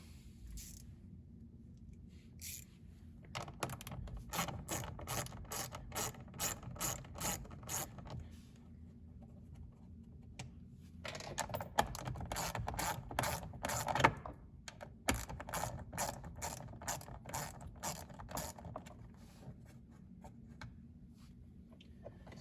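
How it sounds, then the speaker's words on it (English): A ratchet clicks in quick, even bursts while loosening two 7mm bolts inside a Ford Expedition during a cabin air filter change, with short pauses between the runs of sharp, close clicks and no talking. "Now there's two 7mm bolts that we need to remove."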